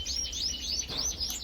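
Lizard canaries chirp and trill in a lively, continuous stream of high tweets inside an aviary, several birds calling close by with no voices.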